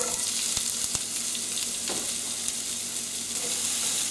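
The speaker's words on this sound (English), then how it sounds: "Olive oil now to the pan. And add our onions." Onions frying in olive oil in a pan, a steady close sizzle with a couple of soft stirring knocks, without talk.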